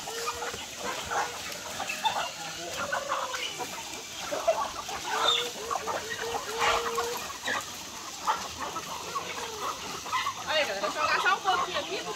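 Chickens cluck and murmur steadily throughout on a farm, with occasional louder squawks, set against a busy outdoor background with faint voices.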